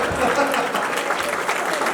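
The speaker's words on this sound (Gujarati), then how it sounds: "ઘરના બધા માટે તાળી પાડો સર" At a school's tenth anniversary celebration, the audience breaks into a short stretch of steady clapping that fills the hall.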